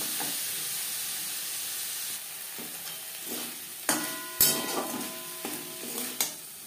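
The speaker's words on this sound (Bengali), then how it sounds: "হাই টু মিডিয়াম ফ্লেমে চিংড়ি মাছ হালকা করে ভেজে নেব।" Prawns lightly frying in a pan over a high-to-medium flame give a steady close sizzle, broken by several sharp clinks and scrapes as they are stirred.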